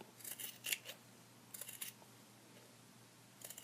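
Scissors snip through fabric being trimmed for American Girl doll clothes, three short clusters of crisp, close cutting sounds with quiet pauses between them and no talking.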